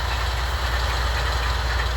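An old, manually operated ship's main engine, started with compressed air, runs in a loud, close, steady rumble with a rapid rhythmic knocking throughout and no speech.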